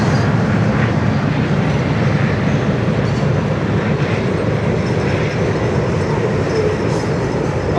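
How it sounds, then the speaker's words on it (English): Train rolling past in an Ohio park, a loud continuous rumble and roar that stays close and even throughout, with no voices. "here's the train"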